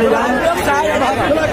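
Dense, loud crowd chatter from a large gathering at a Durga idol immersion in Munger, a continuous babble of many voices close by with no single voice standing out.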